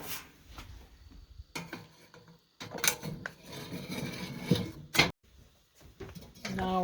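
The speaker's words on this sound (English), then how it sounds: "And then I'm going to slide my grill grates back over." Metal grill grates slid back into place over hot coals on an outdoor grill, with several scraping clanks and rattles separated by quiet gaps and faint background noise.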